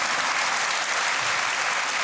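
A studio audience at a TV cooking show applauds with dense, even clapping that holds steady for about two seconds, with no voices over it.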